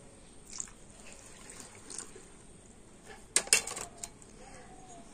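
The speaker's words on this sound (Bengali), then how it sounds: "আর এবার আমি টক দইয়ের বাটিটা ধুয়ে আর জল দিয়ে দেব।" Water from a rinsed yogurt bowl is poured into batter, with a soft trickle and a brief splashy burst near the middle, otherwise quiet and close.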